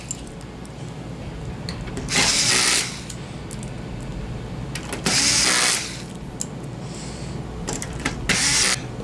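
A power screwdriver whirs in three short bursts, driving screws back into the plastic foot supports of a TCL 55-inch Roku TV, model 55S401, over a steady low electrical hum with small clicks and handling noises between bursts.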